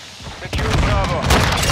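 Gunfire bursts crackle through a multiplayer Call of Duty: Modern Warfare II match, dense and continuous after a sudden onset, layered over game voice callouts and background battle noise.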